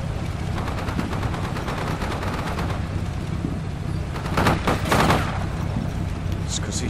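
Rapid bursts of gunfire in the PC war game Combat Mission: Shock Force 2, with British forces in battle, sounding as dense crackling volleys with louder shots clustering near the end over continuous low battlefield rumble.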